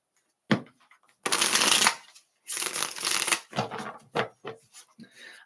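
Tarot cards shuffled in several bursts, close and crisp, with a couple of long riffling passes followed by shorter quick flicks and pauses between them.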